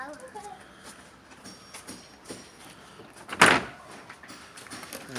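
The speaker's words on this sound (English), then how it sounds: "Caitlin, can you close that side door for me" A side door on a house under construction slides shut with one loud, sharp bang near the middle, set against quiet background noise with occasional speech.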